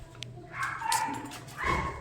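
A pet dog named Johnny, frightened of Diwali firecrackers, lets out two high, whining whimpers that rise into yelping barks, close by over a quiet background.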